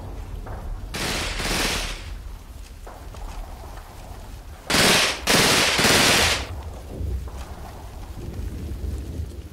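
Gunfire in the World War II strategy game Combat Mission Red Thunder, fought around swampy ground: bursts of crackling automatic fire come in two loud clusters over a low, rumbling battlefield background.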